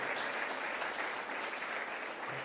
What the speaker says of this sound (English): So I think this is an applause for Jakob Siegel.